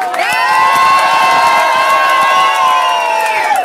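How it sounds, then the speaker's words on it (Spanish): Beach party crowd at Playa del Carmen cheering and whooping loudly, a sustained chorus of high-pitched shouting voices held for several seconds, close and dense, with applause mixed in beneath the yells. "Fuerte el aplauso para la izquierda."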